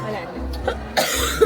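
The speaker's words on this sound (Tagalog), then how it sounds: "Ubo-ubo talaga pamilya." A person coughs a few times in short bursts close by, in a family setting during a trip to Baguio, with talk and background chatter around the coughs.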